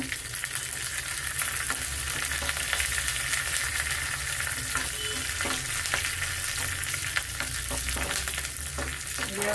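Green chillies fry in hot oil with reddened urad dal for a brahmi leaf chutney. A dense, continuous sizzle with scattered small crackles and pops runs steadily throughout.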